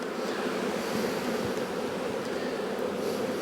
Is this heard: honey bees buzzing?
yes